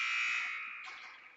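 A single sustained electronic period buzzer blares at a girls' varsity ice hockey game, holding steady before fading out over about a second and a half.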